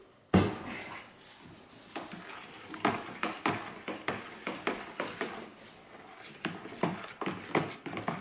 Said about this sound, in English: So we're going to want to give this a pretty good stir up.